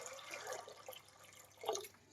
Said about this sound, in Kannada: ನೋಡಿ, ಒಂದು 3/4 ಲೀಟ್ರಷ್ಟು ನೀರು ಹಾಕ್ತಾ ಇದ್ದೀನಿ.